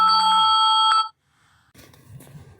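A telephone rings with an incoming call, steady repeated electronic tones sounding loud and close for about a second before cutting off, followed by quiet room noise and faint shuffling.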